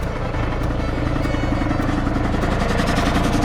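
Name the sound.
air compressor running when full, olive harvest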